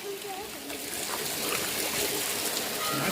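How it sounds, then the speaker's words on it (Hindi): A mountain stream rushes steadily on the route from Mukteshwar to Munsiyari, a close, continuous watery hiss with voices faintly underneath. "और सुंदर सी धारा यहाँ पर।"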